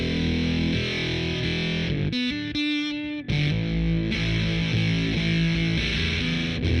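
Behringer SF300 fuzz pedal driving an electric guitar, thick distorted chords ringing steadily and loud, with a brief near-drop around the middle before the fuzzy wall of sound returns.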